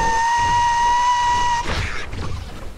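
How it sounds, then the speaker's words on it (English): A steam train whistle sounds as a loud, sustained harmonic tone for about a second and a half, then gives way to a burst of hissing steam that trails off. "Hype train activation noise!"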